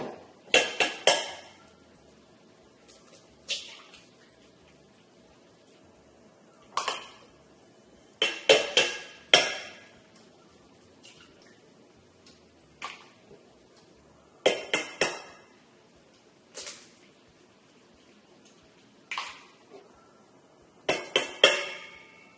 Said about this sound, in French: la deuxième étape qui va être de casser les œufs